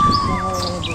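Insects, likely cicadas, buzz and shrill steadily in a dense sal forest in an elephant zone, with bird chirps rising over the continuous drone, fairly loud and close, with no speech.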